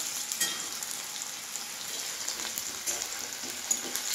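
Two chopped onions fry in hot oil over a charcoal fire, a moderate steady sizzle with scattered crackles and pops.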